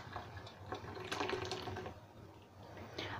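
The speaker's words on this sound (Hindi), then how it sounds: "और इसके बाद में हम ये जो पानी है अपना अदरक वाला, इसे छान देंगे छन्नी से।" Ginger-infused water is poured through a kitchen strainer, a continuous splashing trickle with faint clinks, fairly close and steady for a few seconds.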